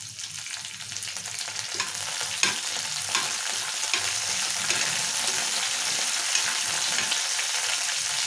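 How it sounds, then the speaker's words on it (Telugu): Red chilies and curry leaves frying in hot oil give a steady, close sizzle with occasional stirring scrapes, continuous throughout and free of talk. "బాగా వేగాలి మిరపకాయలు. ఇప్పుడు అలానే కరివేపాకు కూడా వేసుకుందాము."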